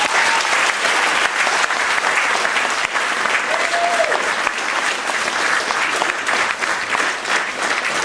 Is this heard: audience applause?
yes